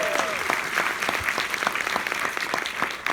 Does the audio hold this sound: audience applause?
yes